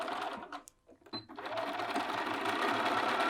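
A sewing machine stitches the underarm seam of a cuffed sleeve, starting after a brief quiet pause and then running steadily with a close, even mechanical whir until the end.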